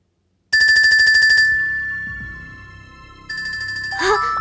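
A telephone rings in an Animal Crossing horror story about the Merry-san phone call: a loud electronic ringtone of rapid pulsing trills stops briefly, then starts again and ends in a short, bright chime.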